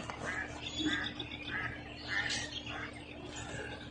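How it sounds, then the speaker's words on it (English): Outdoors at sunrise, a duck gives a few faint, distant quacks spaced over several seconds, with soft bird chirps and a low background hum. "Yeah, there's a duck."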